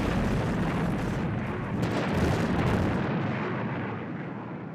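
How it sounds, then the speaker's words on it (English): Explosions from detonated charges on the Thunderbirds puppet series rumble on without a break, a loud and dense blast with deep low booming that holds steady and then tails off slightly near the end. "Detonating charges"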